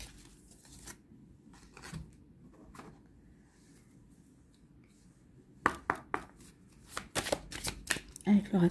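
Oracle cards being shuffled and handled, soft scattered rustles first, then a quick run of crisp riffling flicks close up, with someone speaking.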